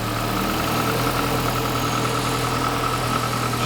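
A Mini engine in a small campervan, freshly filled with seven litres of oil, idles steadily and close up with a constant low rumble and slight vibration.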